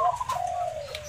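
Close, clear cooing of a perkutut (zebra dove), a short run of soft trilled, rolling coo notes held for about a second against quiet low background noise.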